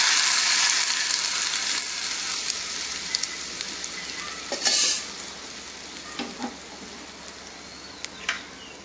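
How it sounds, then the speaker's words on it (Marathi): Hot spiced oil tempering sizzles over raw mango chutney, a loud, dense crackling hiss at first that gradually fades, with a few spoon clinks and stirring scrapes near the end. "ही फोडणी आपण कैरीच्या चटणीवरती."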